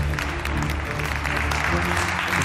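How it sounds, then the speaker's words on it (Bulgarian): A studio audience applauds to welcome a chef who cooks techno-emotional cuisine: loud, continuous clapping from many hands, with a crowd murmur and a steady low hum running underneath. "Моля, посрещнете с аплодисменти специалистът по техно-емоционална кухня Георги Бойковски!"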